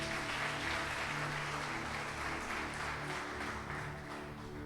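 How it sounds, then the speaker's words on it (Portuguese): Church congregation applauds during a sermon, a continuous wash of clapping from many hands at moderate distance, fading slightly toward the end. "Vamos aplaudir Mateus?"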